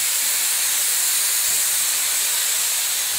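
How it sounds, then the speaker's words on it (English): A spray gun applies Marbocote Spraycote FD release agent onto a mould, giving a continuous, even, bright hiss of atomized spray that holds steady throughout with no talking. "Always keep the gun parallel to the mould surface and always move at the same speed."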